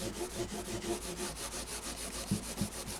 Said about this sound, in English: There's the Burgundy Scotch Brite. I do that right over the fretboard and the frets.